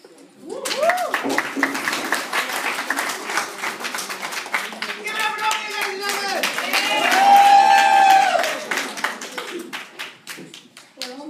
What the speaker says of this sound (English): keep that warm round of applause going for your next poet up to the microphone